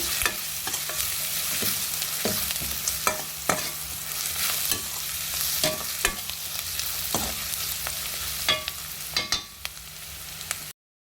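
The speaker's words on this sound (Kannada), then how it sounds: "ಸ್ವಲ್ಪ ಅಚ್ಚ ಖಾರದ ಪುಡಿ ಹಾಕ್ಕೊಳ್ಳಿ" Chilli powder and masala for egg rice fry over a low flame in a pan, a continuous close sizzle with repeated scraping stirs and clicks of a spoon against the pan throughout.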